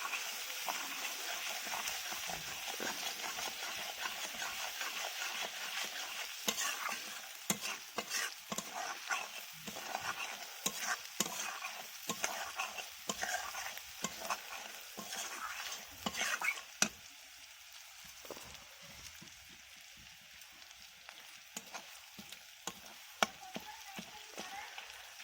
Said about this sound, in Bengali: রসুনটা ভাজা ভাজা হয়ে এসছে হালকা